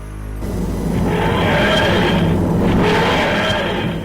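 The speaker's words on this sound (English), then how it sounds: "This is the sound of the TARDIS materialising." The TARDIS materialising sound effect: a loud, rising and falling wheezing groan swells in repeated waves over a deep rumbling drone, sustained and mechanical, with no voices.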